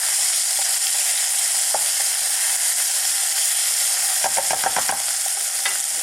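Pork stir-frying in a wok over high heat gives a loud, constant hiss of sizzling fat, punctuated by rattling bursts of a spatula scraping and tossing the meat near the end.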